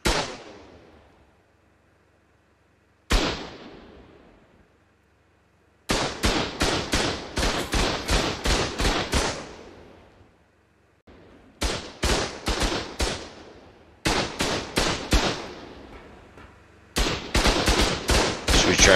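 Automated base turrets in Ark Survival Evolved fire in long rapid bursts, loud and close, with short pauses and a few single shots between the volleys and no talk over them.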